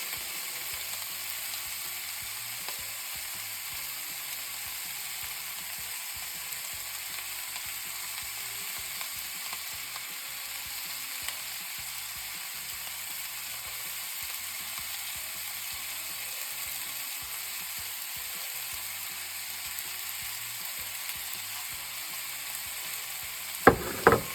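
Bacon and cheese sizzle in a hot pan with the burner off, a soft, steady hiss that stays even and fairly quiet throughout, with a couple of brief knocks at the very end.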